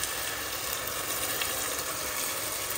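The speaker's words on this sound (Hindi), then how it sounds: "तो अब हम लोग जो है ये चिकन डाल देंगे इसके अंदर और फिर इसको पकाएंगे।" Chicken hisses and crackles in hot oil as it drops into a pan of golden-brown frying onions, a dense steady sizzle up close with no voices.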